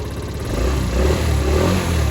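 A Baja scooter engine idles steadily, a low continuous rumble with a slight rise in level partway through, heard alone with no talk.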